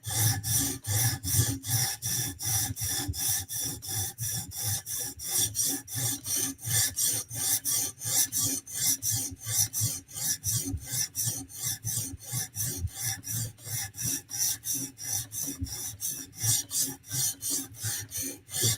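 A blade is sharpened by hand with a file, producing steady, rhythmic rasping strokes that repeat evenly for a long stretch, close and moderately loud, with no talk.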